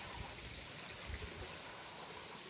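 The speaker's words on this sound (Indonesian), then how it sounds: "Dan sebelah sini ada aliran sungai kecil." A small stream flows beside a grassy wooded garden plot in the countryside, a steady close rushing wash of water with no talk.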